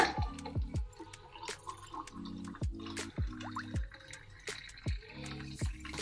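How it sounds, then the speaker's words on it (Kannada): Blended homemade juice pours slowly into a glass in faint, intermittent trickles and drips, with soft tonal ringing between the pours and no talking. "ಇವಾಗ ನಾವು ಇದೇನು ಜ್ಯೂಸ್ ಮಾಡ್ಕೊಂಡಿದ್ದೀವಿ ಇದನ್ನ ನಾವು ನಿಧಾನಕ್ಕೆ ಒಂದು ಗ್ಲಾಸಲ್ಲಿ ಹಾಕೊಳ್ಳೋಣ"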